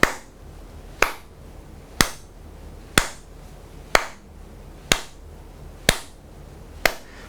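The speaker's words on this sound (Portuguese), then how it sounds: "vou tocar aqui com palmas o que você está vendo" Eight sharp hand claps in a steady, evenly spaced beat about once per second, close and crisp with quick decay, alone without any talk.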